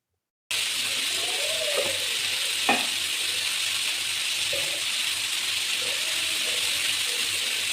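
Fenugreek leaves (methi bhaji) cooking in oil on a griddle, a continuous bright sizzle with a few scattered clinks and scrapes of stirring, no voices over it.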